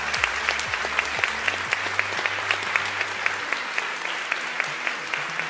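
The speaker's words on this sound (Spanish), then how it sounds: "Un aplauso también para ella." A congress audience gives steady, full applause for a panelist, many hands clapping continuously, with a low musical backing line running beneath the clapping.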